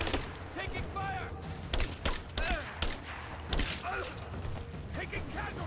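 Gunfire and shouted callouts in the video game Rise of the Tomb Raider: a dense, continuous battle mix of sharp shots and mechanical clatter, with voices calling out over the shooting.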